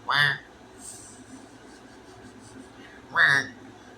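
A person imitates a goose honk with their voice, two short loud nasal bursts near the start and end separated by quiet, without any spoken words.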